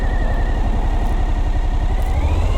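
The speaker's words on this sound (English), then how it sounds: "Okay, I've got to wait for that car anyway" A car engine idles steadily at a road junction, a close, continuous low hum holding even throughout with no talk.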